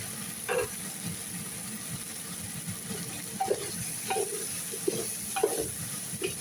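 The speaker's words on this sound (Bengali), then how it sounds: "এই দেখেন আমি কত সুন্দর করে ভাজি করে নিচ্ছি, দেখছেন?" Whole cumin and mixed spices sizzle softly in a hot pan, with a steady low frying hiss and a few brief scraping stirs spaced through the clip; no one speaks.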